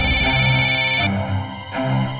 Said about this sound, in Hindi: हाँ, दीदी का फोन है।